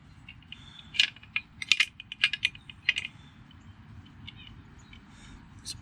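A screwdriver tightens the rear chain guard screw on a Schwinn Racer bicycle, giving a cluster of small, close metallic clicks and ratcheting ticks that fade into quiet, with no talking.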